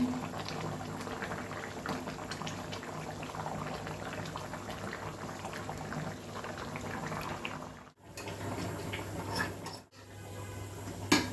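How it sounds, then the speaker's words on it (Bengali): Elephant apple (chalta) pieces boiling in a pot of water, a continuous bubbling simmer that stays steady and close, with two brief breaks. "এটাতে চালতা বসায় দিয়েছি, চালতা সিদ্ধ করব"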